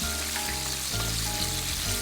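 Buttermilk chicken frying in hot oil in a pan, a loud, steady sizzle and crackle that carries on without a break, with no talking.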